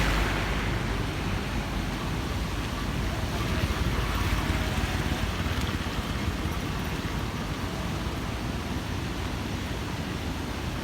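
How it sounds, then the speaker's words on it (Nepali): A flooded river in spate rushes past in a dense, unbroken roar of churning water. The sound is loud and close, steady for the whole stretch, with a wind-like rumble and no voices. "खोलामा भल हेर्नु होला यहाँ।"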